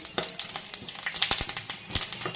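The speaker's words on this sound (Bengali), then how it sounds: "এবার ফোড়নটা দিয়ে দিচ্ছি" Whole spices tempering in hot oil for mung dal made with mankochu, a steady crackling sizzle with pops and spits, close and busy, with no talk over it.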